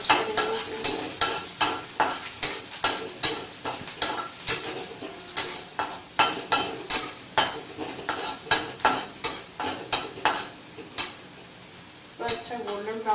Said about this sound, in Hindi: अब इसमें हम जीरा डाल देंगे, इसे मिक्स कर लेंगे, अच्छा गोल्डन ब्राउन हो जाएगा। और इसमें लहसुन डालेंगे